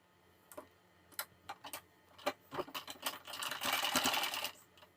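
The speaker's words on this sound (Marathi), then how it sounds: "वरच्या साइडने आपल्याला इथून गळ्याला शिलाई देऊन घ्यायची आहे" A sewing machine stitches a blouse neckline: a series of sharp, separate clicks and short bursts, then a sustained close run of stitching before it stops.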